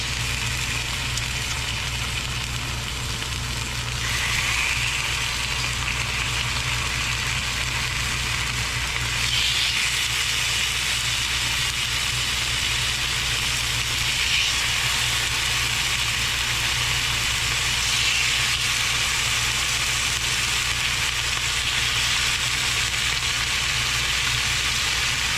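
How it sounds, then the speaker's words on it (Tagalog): Sliced beef for bistek frying in a pan, a steady broadband sizzle running the whole time with a constant low hum underneath and a few faint clicks. "At kailangan po niya na isa-isa po natin siyang iprito."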